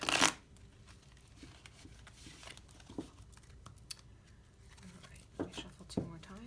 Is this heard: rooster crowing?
no